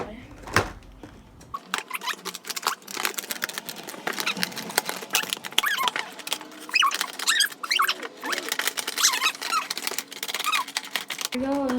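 NECA Shin Godzilla toy packaging is cut open with close crinkling plastic, squeaky scraping and snipping noises in irregular bursts, with a voice speaking at times alongside.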